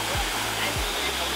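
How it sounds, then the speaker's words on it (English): Small mountain waterfall in Vietnam gives a steady, close rushing of falling water, with a couple of brief low thumps over the constant wash. "now we're at this little waterfall that is so cute"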